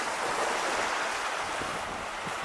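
Gentle ocean waves wash onto a warm Hawaiian beach near Haleiwa, heard as a steady, soft broadband hiss with little surge, mixed with light wind noise and no voices.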